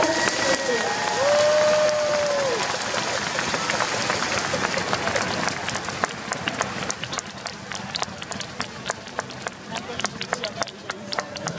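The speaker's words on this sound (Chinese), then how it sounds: "请各位现场的观众朋友给远东科技大学的全体球迷一个热烈的掌声" Stadium crowd applause at a youth baseball game during a rain delay, rising after a loudspeaker announcement, with scattered sharp claps, cheers and chatter spread across a large, reverberant ballpark.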